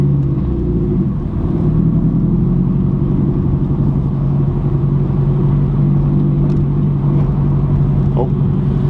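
A car with a Karma bodykit rolls slowly around a warehouse parking lot, its engine a steady low rumble with mild revving, close and continuous throughout, with a faint scrape near the end.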